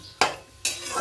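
Two quick scraping stirs of food in a frying pan with oil and black cumin, each a sharp swish followed by a soft sizzle, close and alone.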